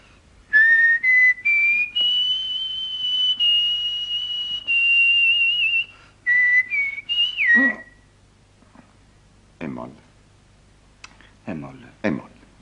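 A person whistles a tune in clear, sustained notes and short phrases, loud and close, with quiet pauses and a few clicks between phrases.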